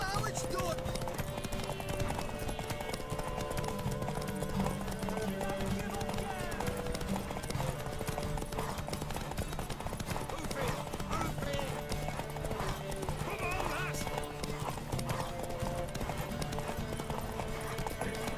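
Horse hooves clip-clop at a steady galloping pace in The Witcher 3: Wild Hunt, over a dense, continuous backdrop of game music and ambient sound, with an occasional whinny.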